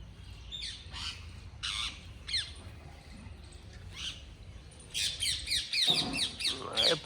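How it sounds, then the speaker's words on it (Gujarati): Parrots squawk in a series of sharp, harsh calls, first scattered one by one and then crowding together into a louder, rapid burst toward the end, with no talking. "એ પોપટે આ જોડી"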